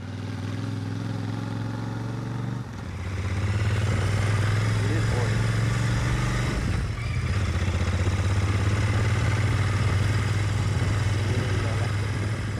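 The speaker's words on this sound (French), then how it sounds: "On est justement sur le chemin Godard qu'on va essayer à moto." A motorcycle ridden along chemin Godard in Sherbrooke, a badly deteriorated road, its engine note rising after a brief lull, with clattering bumps and wind rumble continuing steadily and loudly to the end.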